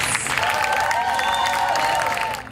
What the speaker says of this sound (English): Let's give her a joyous round of applause for Dr.